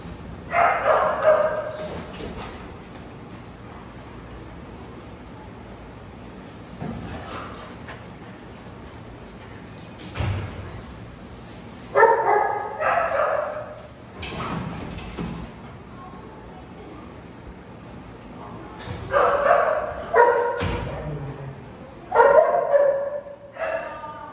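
A dog gives a few loud excited barks and yips in bursts, close by, with quieter shuffling in between.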